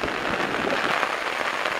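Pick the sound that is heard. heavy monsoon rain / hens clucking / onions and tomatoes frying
heavy monsoon rain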